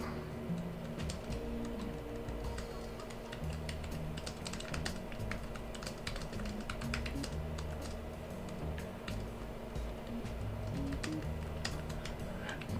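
Typing a note on a computer keyboard during a live hangout stream, with steady soft key clicks running through the whole stretch over a constant low background hum, no talking.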